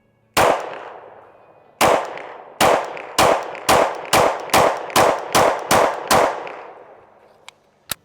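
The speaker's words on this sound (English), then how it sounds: "let's shoot an MR920 next to it and see how it compares" Pistol shots from a Shadow Systems MR920 handgun, loud and close: one shot, a pause, then a fast steady string of about ten more, each with a short ringing decay, and a faint click at the end.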